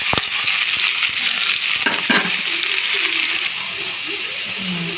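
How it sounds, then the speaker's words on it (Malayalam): Chopped onion, green chili and curry leaves hit hot oil in a pan with a loud, close sizzle and crackle, stirred with scraping clatter, the frying easing slightly toward the end. "അരിഞ്ഞു വെച്ച ഉള്ളി പച്ചമുളകും അതുപോലെ ഒരു രണ്ട് കരിയാപ്പിലേക്ക് ഇട്ട് കൊടുക്കാമേ"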